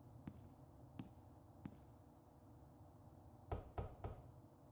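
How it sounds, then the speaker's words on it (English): Knocks on a door in the adventure game The Longest Journey: three spaced single taps, then a quicker, louder burst of three knocks, all fairly faint over a low ambient hum. "See if we can knock on the door."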